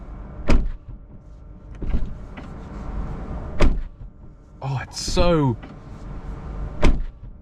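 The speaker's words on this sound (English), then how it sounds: "listen to how good the doors sound as well" Doors on a Tesla Model 3 Highland shutting with several firm, solid thuds spaced a second or two apart, close by, with a brief spoken exclamation in between.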